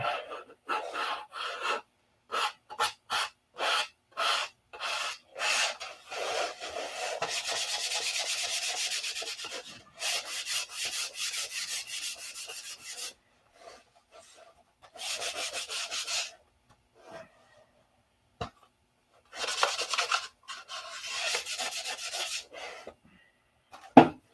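Hand sanding on the covering of a P-47 model aircraft in a garage: quick bursts of rubbing strokes, then longer sustained passes separated by pauses, close and fairly quiet.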